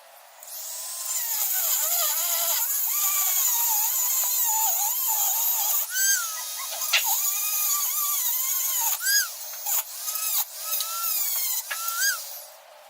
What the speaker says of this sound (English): We're going to use the easy speed click adapter with a cut-off wheel, and then just cut this about an inch shorter so it clears the boot.